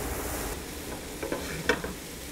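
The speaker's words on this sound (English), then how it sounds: "And then we'll stir all that together." Turkey chili meat is stirred in a hot pot with a steady low sizzle of fat. A few soft spoon scrapes and stirring clicks rise above it near the end.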